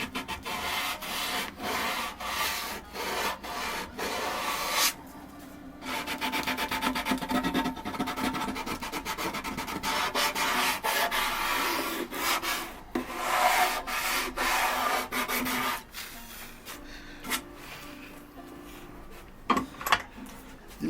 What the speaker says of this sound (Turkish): Şöyle bir el zımparasıyla burayı